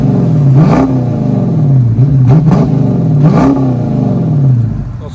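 Dodge Charger with a 5.7L HEMI V8 and Flowmaster Flow FX exhaust revs three times in a row, each loud, rising bark falling back to a rumbling idle, close by with no talk.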